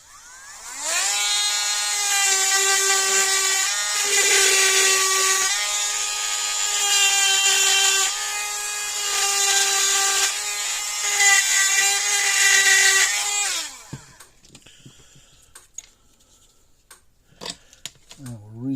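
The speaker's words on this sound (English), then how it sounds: "Let's get the old Dremel tool out" A Dremel rotary tool whines at high speed on a Gallagher solar fence charger repair, a loud steady shrill drone for about thirteen seconds, then cutting off to quiet clicks and small handling noises.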